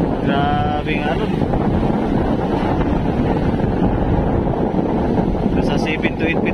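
Gusting wind roars steadily across the microphone over heavy surf of waves around seven to eight feet high on the Aurora coast before a typhoon, with brief speech at the start and end.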